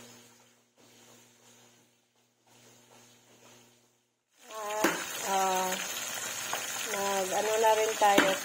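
Fish frying in hot oil sizzles loudly and steadily after a few seconds of quiet background sound, with a voice talking over the cooking.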